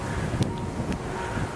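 Steady wind buffeting close to the microphone by a river on the Cumbria Way trail in England, a low continuous rumble with a couple of faint clicks, no one talking.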